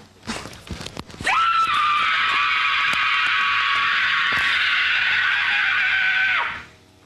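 A man screams in a long sustained high-pitched howl on a 1993 Headbangers Ball metal TV show, loud and steady for about five seconds before cutting off, after brief rustling and knocks.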